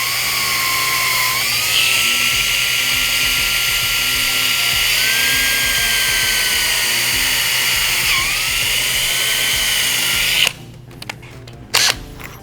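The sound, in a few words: drilling into a whole house filter housing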